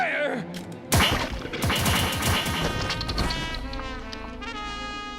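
A rapid volley of gunfire from a firing squad in the anime Code Geass, following a shouted command. Several sharp, loud cracks pile into a dense burst that rings out over a sustained musical score.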